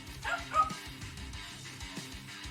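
A pet dog playing with a cat indoors gives faint, scattered yips and small barks in the background, soft and intermittent throughout.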